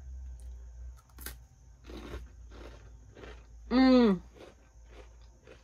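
Crunchy breadsticks dipped in sweet spicy brown mustard are bitten and chewed up close in a series of crisp crunches, with a short hum of approval partway through.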